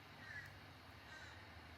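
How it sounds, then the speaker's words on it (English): Crows caw outdoors, faint and distant, with two brief calls over a steady low hum. "It's those blackbirds. Like, I think it's the crows."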